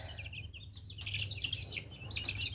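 A crowd of nearly three-week-old black chicks peeps in rapid, high-pitched bursts that overlap continuously, with a low steady hum running underneath.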